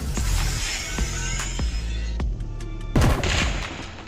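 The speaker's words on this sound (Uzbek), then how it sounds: "Mana portlatib hamma joyni yondirib yubordi." Explosion sound effect cut into an edited superhero-costume video: sharp booming blasts with a crackling, gunfire-like rumble, a louder burst near the end, all close and loud with no talking.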